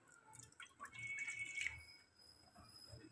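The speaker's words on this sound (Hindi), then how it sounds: "ये हमने पानी डाल लिया," Water poured into a mug of washed, soaked tamarind, making a faint, brief trickle and splash in a quiet kitchen.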